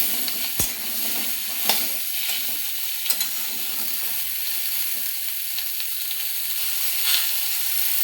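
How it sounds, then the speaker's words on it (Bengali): Cherry tomato chutney sizzles and fries steadily in a pan while a utensil stirs and scrapes it in occasional sharp clicks, close and continuous with no talking. "নাড়তে থাকবো।"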